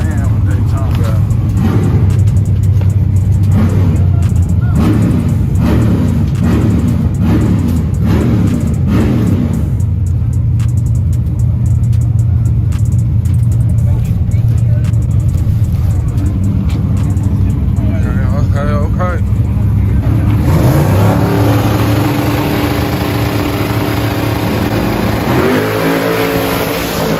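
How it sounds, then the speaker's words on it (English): A billet drag truck does a glue burnout at a drag strip, its engine revving loud and sustained with tire roar, then the sound shifts to a different, rougher tone. Spectators talk over it. "they gotta do a glue burnout"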